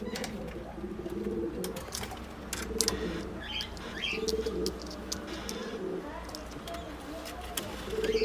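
A pigeon coos in soft, repeated low calls near the listener, with faint chirps and occasional wing sounds over a steady background hum; a person speaks at times.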